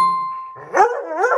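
An American Foxhound, a hunting dog kept alongside Gascony blues and beagles, gives a couple of close, loud barks and yelps after a steady electronic tone, with no talking.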